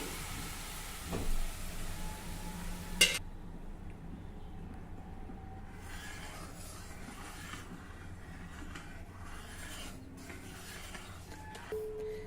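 A tempering of asafoetida and curry leaves is poured into kadhi, producing a loud crackling sizzle for about three seconds that then settles into a quieter, lingering bubbling hiss.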